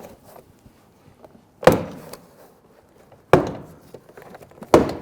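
Plastic retaining clips on the front left door panel of a 2000-2006 Toyota snap loose as the trim panel is pried outward, giving three sharp, loud pops spaced over a few seconds with quiet handling noise in between.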